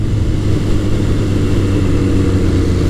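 A Kawasaki KZ1000 CSR motorcycle fitted with a Delcovic exhaust accelerates through the gears, giving a loud, continuous, throaty engine drone.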